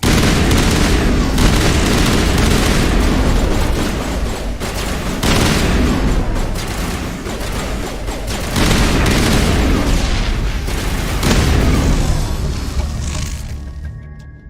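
Dense, sustained gunfire from a Mass Effect Legendary Edition firefight, with loud overlapping shots and booms forming a near-continuous barrage for about fourteen seconds before cutting off.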